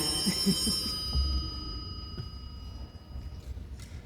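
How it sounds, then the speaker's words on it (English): An old-style telephone bell ringing indoors in a home, a few short metallic rings early on, then a quieter stretch with a faint sustained tone and low room rumble, no voices. "I have to answer the phone."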